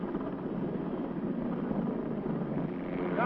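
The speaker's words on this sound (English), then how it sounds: "He now will show you some flexibility by reversing, again, putting the thrusting propeller in the rear in the reverse position" An AH-56 Cheyenne attack helicopter reversing on the ground with its rear thrusting propeller in reverse pitch gives a continuous, moderately loud whirring, buzzing roar of rotor and propeller noise.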